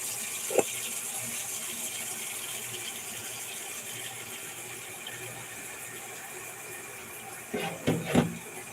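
Warm water runs from a tap into a sink with a steady, even hiss for several seconds, close to the mic, with a few splashes and knocks near the end.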